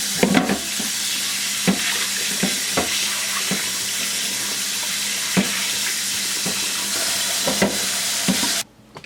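A tap runs steadily while a piece of beef spleen is rinsed under the water, with a constant splashing hiss broken by occasional soft knocks and handling clatter before the flow suddenly cuts off at the end.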